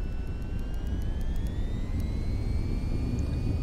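An aircraft takes off in the flight game VTOL VR, its engine roaring as a steady, loud drone while a rising whine climbs gradually in pitch, with no voices.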